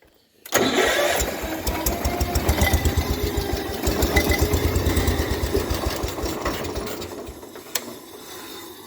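A 1971 John Deere 120 tractor engine, under repair for a head gasket, cranks with a rapid rhythmic chugging that runs loud and steady for several seconds before fading out as it stalls, with no talking.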